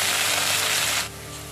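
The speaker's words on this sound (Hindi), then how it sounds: "प्याज और आलू को मैं साथ में ही फ्राई कर दूंगी ताकि ये आलू भी पकता रहे।" Onions and potatoes fry together in a pan for a vegetable dish, giving a steady close sizzle that drops to a quieter hiss after about a second.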